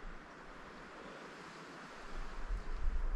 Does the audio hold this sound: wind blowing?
yes